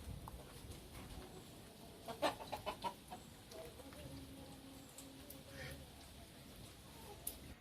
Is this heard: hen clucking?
yes